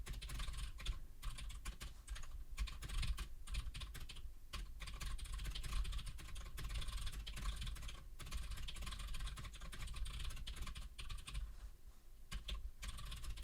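Someone types on a computer keyboard, a quiet continuous patter of irregular key clicks over a faint low hum, with no voices.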